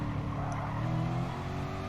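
A McLaren race car engine in a racing video game drones steadily and loudly, with a constant harmonic engine tone throughout and no clear passes or gear changes.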